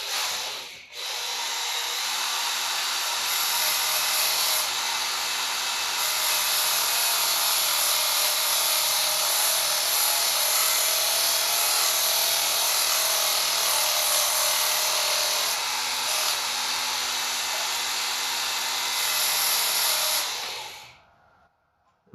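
Felco pruners are sharpened on the coarse setting of a Work Sharp powered sharpener, a loud continuous grinding whir lasting about twenty seconds before cutting off.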